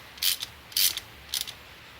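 A ratchet with a swivel socket tightens a bolt on a VW/Audi 1.8T engine during a coolant freeze plug and thermostat repair. It gives three short, close, crisp clicking bursts, separated by brief pauses.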